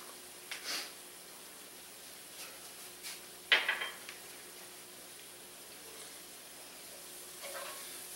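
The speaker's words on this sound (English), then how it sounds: "we're really kind of roasting out that nutmeg and that cayenne pepper" Spinach with nutmeg and cayenne pepper cooks in a pan, a faint steady sizzle broken by a few scattered clinks and scrapes of a utensil, one sharper knock near the middle, no voices.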